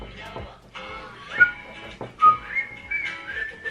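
A person tries to whistle, producing a few thin, wavering whistle tones between breathy, uneven attempts, close and fairly quiet.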